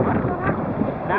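Strong wind buffets the microphone during a rain-soaked outdoor bicycle ride, a close, loud, steady roar with deep rumbling gusts.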